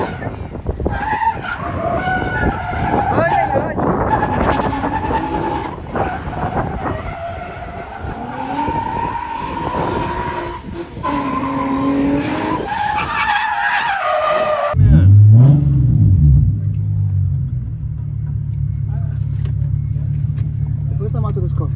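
A Nissan 350Z drifting, its engine howling and tires skidding with a long squealing scrub for about fifteen seconds before it settles into a steady low idle rumble, close and loud throughout.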